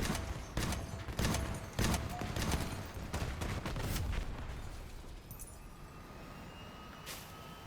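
Vehicle-combat gunfire from the game Crossout comes as repeated sharp blasts and bursts, dense in the first half and then thinning out. A few explosive hits sound over continuous engine and battle noise.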